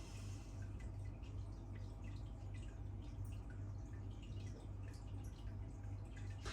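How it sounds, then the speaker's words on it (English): Vocation Bucks Fizz, a 4% pale ale, poured slowly into a glass, making a steady, close fizzing crackle with soft drips over a low background hum, with no talk. "Sometimes in life, you might take 2 minutes to pour a beer"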